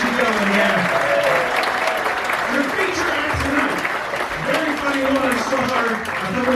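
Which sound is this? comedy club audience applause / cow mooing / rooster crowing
comedy club audience applause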